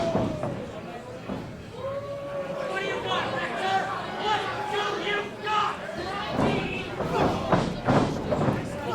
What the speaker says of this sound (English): hard forearms exchange in the center of the ring